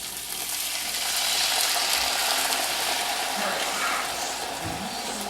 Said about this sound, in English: We're going to want to get this sauce up to boiling.